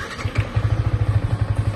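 A Yamaha R15 motorcycle engine fires up once its alarm unlocks and settles into a steady, close, pulsing idle with a quick rhythmic thump, no voices over it.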